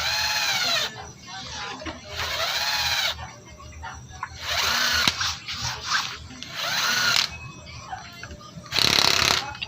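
A power tool tightening bolts on a Kawasaki Barako motorcycle clutch, several whirring bursts of a few seconds each with pauses between, close and fairly loud.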